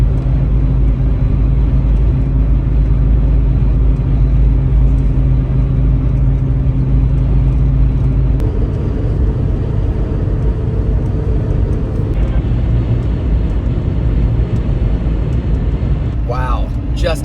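A Jeep JK cruises along a road on an overland trip near Zion, its steady engine and tire rumble droning continuously throughout, with a brief shift in tone partway and a voice faintly present near the end.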